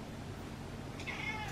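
One short cat meow, fairly soft, rises briefly over a faint background hum.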